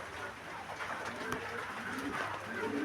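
Soft, low cooing of fancy pigeons for sale in a noisy, busy setting, faint and blended into the background hum.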